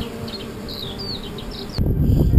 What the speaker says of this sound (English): You can hear the bees humming in it